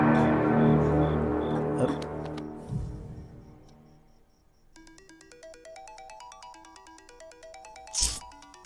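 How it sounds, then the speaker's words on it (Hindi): A bright electronic ringtone melody plays in repeating stepped notes after a louder muffled passage, with a short sharp burst near the end. "तुम्हारे नंबर से मुझे कॉल आ रहा है"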